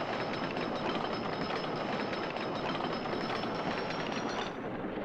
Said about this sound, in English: Train number 3 clears the station,